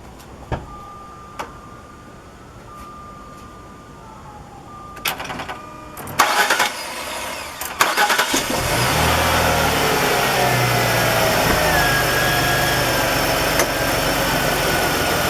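A 2004 Jaguar X-Type, just fitted with a new throttle body, cranks with a few sharp bursts and catches, then settles into a steady, loud close idle that continues to the end.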